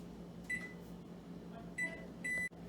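An oven being set to preheat to 350 Fahrenheit sounds three short, clear electronic beeps, spaced unevenly over a faint room hum.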